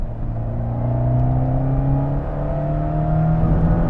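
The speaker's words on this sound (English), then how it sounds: "This is a turbo engine as well, which adds to the excitement." Abarth 124 GT turbo engine accelerating after a downshift into third, a close continuous engine drone rising steadily in pitch over four seconds, with no talk.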